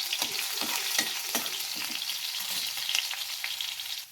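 Cumin and mustard seeds crackle and sizzle in hot oil with a dense, bright hiss, close up. Scattered sharp pops and spatters run throughout, and no one speaks.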